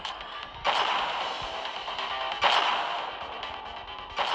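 Video game gunfire in Pixel Gun: a steady stream of shots and crashes in a dense, busy mix of game sound effects, with no voices.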